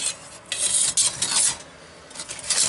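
Metal parts of an Outon Twig Stove scrape and rasp against each other, a close series of short grating rubs and light clinks over a few seconds, with no voices.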